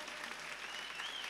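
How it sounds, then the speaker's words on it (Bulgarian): Audience applause following a concert by a Bulgarian folk ensemble from Yambol, a dense, steady wash of clapping held at a faint, distant level for a brief moment with no voices over it. "Аплодисменти за фолклорен ансамбъл Тунджа."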